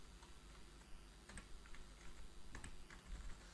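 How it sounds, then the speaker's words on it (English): Quiet, irregular keystrokes on a computer keyboard, soft clicks in short bursts with brief pauses, no talking. "now you start typing, maybe anything."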